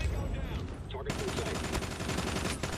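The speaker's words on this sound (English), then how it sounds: "Oh, that's definitely rapid fire." Rapid-fire gunfire in a first-person shooter video game: a dense, continuous burst of shots that swells sharply after the first second and keeps rattling steadily to the end, loud and close.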